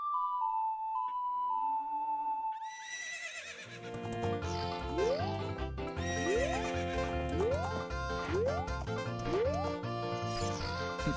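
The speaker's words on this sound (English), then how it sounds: "but that horse we were on was Epona." Epona, the horse in The Legend of Zelda: Ocarina of Time, whinnies amid game sounds, followed by bright melodic game music with repeating rising notes and steady percussion throughout.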